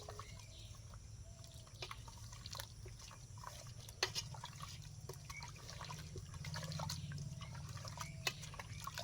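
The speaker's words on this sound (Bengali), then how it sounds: "এখন এলা গুলবো এই দেখো হাত দিয়ে মাখিচ্ছি কেমন করে" Hands squish and mix tamarind seed paste in a basin of water, giving soft, irregular wet sloshing and dripping sounds throughout, fairly quiet and close, with no talking over them.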